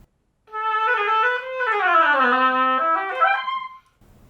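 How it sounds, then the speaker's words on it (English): A solo oboe plays a smooth, sustained warm-up phrase, gliding between pitches in one continuous line, close and fairly loud. "Let's talk about oboe warm-ups."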